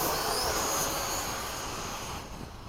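Hawk jets doing a formation touch and go at Bayside, a loud steady jet engine roar with high whine that slowly fades toward the end.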